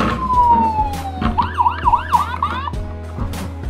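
A police siren wails with a falling tone, then warbles rapidly up and down for a second before cutting off, moderately loud over faint background noise.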